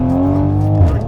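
A Toyota Supra MKV engine revving through a full Tomei catback exhaust with big pipes: a loud, close, droning exhaust note that holds steady, then dips and shifts near the end.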